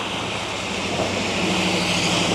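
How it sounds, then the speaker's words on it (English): Monsoon rainwater rushing along a street in Innisfail, Australia, a steady broad wash of flowing water with a hiss like surf, continuous and fairly loud, with no voices. "see how the water flows here"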